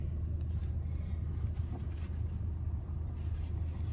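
A car's engine rumbles low and steady while it pulls into a parking spot at a Shell car wash in Newmarket, a continuous muffled drone with faint wind noise and no voices.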